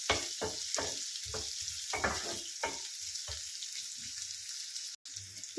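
Beans and carrot palya fries in a pan, a soft continuous sizzle broken by a series of scraping stirs, close and moderately loud, with no talking.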